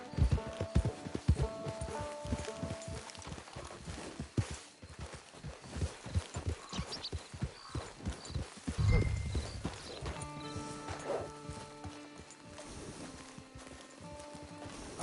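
Horse hooves clip-clop steadily in Red Dead Redemption 2, a rhythmic run of close hoofbeats that slows briefly mid-way, then picks up again over faint ambient game sound.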